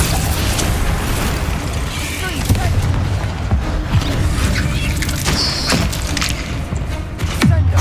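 Spell blasts and booms from the Hogwarts Legacy video game, dense and loud, with rapid bursts and crashes layered over a constant roar of game sound and music.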